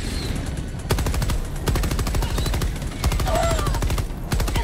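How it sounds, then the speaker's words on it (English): Rapid machine gun bursts from a Helldivers 2 battle: loud, dense automatic fire in repeated volleys of about a second, broken by short gaps, with game effects in the background. "Oh, shoot. That machine gun."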